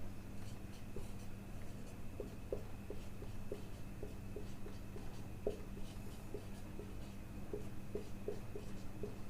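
Marker or pen writing chemistry examples on a board during a lecture, a run of short, quiet rhythmic strokes and taps over a steady hum, with no talking.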